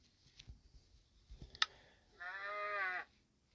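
A Minecraft cow moos once, a short clear low call after a few quiet clicks and footsteps, alone in a calm game scene.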